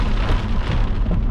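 Heavy rain pours down in a steady, loud roar during a tornado-warned storm in Arkansas, right at the edge of the circulation.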